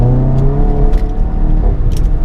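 A Volkswagen Golf GTI MK7 with APR Stage 2 tuning accelerates hard in a steady, loud, close engine roar, its wheels spinning under power with no talking.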